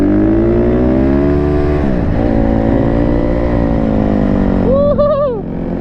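Honda 150R two-stroke supermoto motorcycle riding, its loud buzzing engine revving up and down close by, dipping briefly midway then climbing in rapid rising revs near the end.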